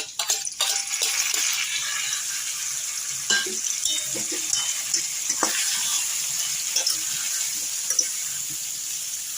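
Potatoes fry with ground spice paste in a pan, sizzling steadily at moderate loudness while a utensil scrapes and taps through repeated stirs.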